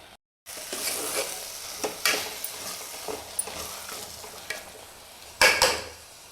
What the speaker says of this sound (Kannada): ಮೊಳಕೆ ಕಾಳನ್ನು ಸ್ವಲ್ಪ ಚೆನ್ನಾಗಿ ಇದನ್ನು ಸಹ ಫ್ರೈ ಮಾಡ್ಕೋಬೇಕು